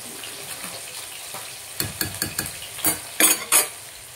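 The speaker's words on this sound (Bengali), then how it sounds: "দেখো বন্ধুরা মাছগুলো সুন্দর ভাজা হয়েছে" Fish fry in a pan with a low sizzle, and a utensil clatters and scrapes against it in a run of sharp, close knocks toward the end.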